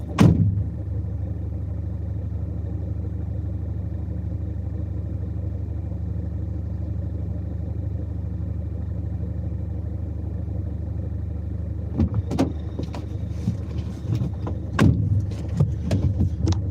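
A BMW car engine idles steadily and low throughout, a constant close rumble, with some clattering handling noises and shuffling near the end.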